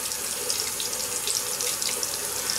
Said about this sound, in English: let me wet my face again because I feel like maybe it's drying out